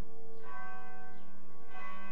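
A courthouse bell in York County, Yorktown, rings out in a resonant peal, metallic strikes with long ringing overtones that linger and swell again, clear and fairly loud with no voices.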